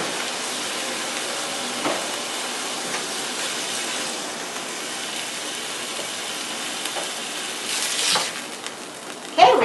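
Chicken pieces brown in a hot pan for chicken cordon bleu, giving a steady low sizzle throughout and a short louder burst near the end, with no voices.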